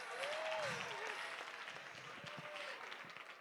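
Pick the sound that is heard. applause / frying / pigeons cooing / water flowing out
applause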